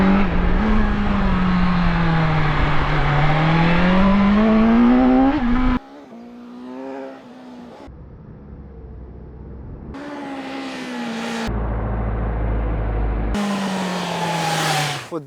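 Engine of a 2020 BMW S1000XR sport-touring motorcycle, 165 horsepower, revving and pulling through gears while riding, loud and close with rising and falling pitch, broken by several abrupt cuts and shifts in level.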